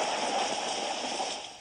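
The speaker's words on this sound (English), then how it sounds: "Rain!" Steady rain falls in a dense, even hiss of drops, loud and close, with no voices, tapering slightly at the end.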